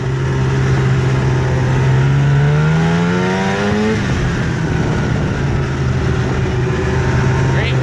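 A 1998 Arctic Cat Z440 fan-cooled twin-carb snowmobile pulls away on snow. Its two-stroke engine climbs steadily in pitch for about four seconds, then settles into a loud, close, rough roar.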